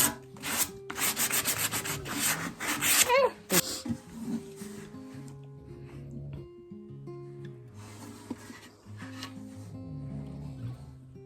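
Sandpaper rubbed over painted tin to distress a pitcher: loud, rapid scratchy strokes in quick bursts at first, then quieter intermittent rubbing with soft background music.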